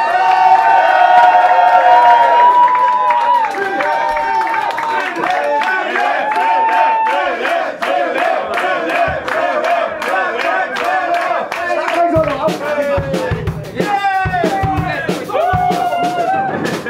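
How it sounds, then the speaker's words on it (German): A live concert crowd at a 2013 punk show cheers, shouts and claps loudly for a long stretch, with individual whoops and cries rising over the din. "und zwar auf der Bühne. Applaus!"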